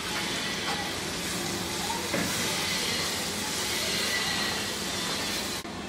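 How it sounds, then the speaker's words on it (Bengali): A cup of finely chopped onions frying in oil with cumin in a pan, making a loud, continuous sizzling hiss that stays even and close from start to finish. "এখানে আমি 1 কাপ একদম কুচকুচি করা পেঁয়াজ ওগুলা দিয়ে দিব, দিয়ে এর সাথে একটু ভেজে নিব"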